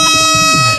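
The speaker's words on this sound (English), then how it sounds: "We need the air horn." Air horn blast in an indoor studio-style setting, a single sustained loud honk holding steady tones for nearly a second before trailing off, with no talk over it.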